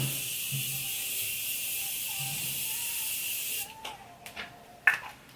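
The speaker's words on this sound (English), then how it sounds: "Let me go ahead and set my face. And I'm going to go ahead and use the Morphe setting spray." Morphe setting spray is misted onto a face in a steady, close hiss lasting about three and a half seconds, then stops, leaving a few faint clicks and handling sounds.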